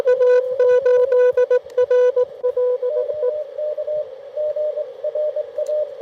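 Morse code on amateur radio from a portable park station: a clean sidetone beeping in quick dits and dahs, loud and steady, with a fainter second signal keying under it in the latter part.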